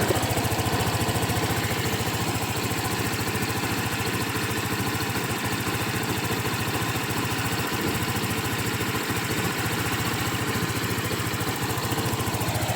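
The engine of a Seha 150 motorcycle idles steadily and loudly at close range, a continuous, even rumble with no pauses, heard during a coolant change.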